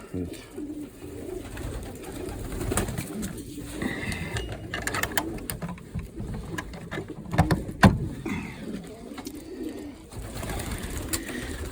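Pigeons in a loft, some of them feeding young squabs, coo softly among rustling and wing flutters, with scattered knocks and faint background hum.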